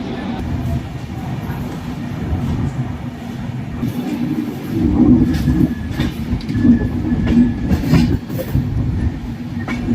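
The Gitanjali Express from Mumbai CSMT rumbles steadily along the tracks from inside a carriage, low and loud, with occasional rattles and clacks swelling midway.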